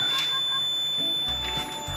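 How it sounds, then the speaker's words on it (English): Fire alarm from an IFS 3030 system with EWS sounding during a monthly system test: a steady high electronic alarm tone running throughout, with lower buzzing pulses joining near the end, close and loud. "So the alarm go off,"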